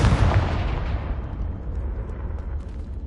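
A Confringo explosion spell in the video game Hogwarts Legacy bursts with a loud, deep boom. A long rumbling tail follows and fades over the next few seconds.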